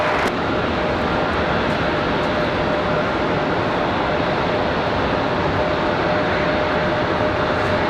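A steady, loud roar from an Aeromexico airliner arriving from Mexico City at the end of the runway at Raleigh-Durham International, a constant broadband rumble with no break for the whole span.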